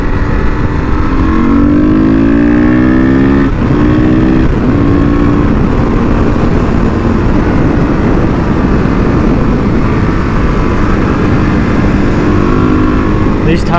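A supermoto motorcycle cruises along a backcountry route, its engine droning loudly and steadily with rising and falling tones as the rider shifts and changes speed, dense wind buffeting mixed in.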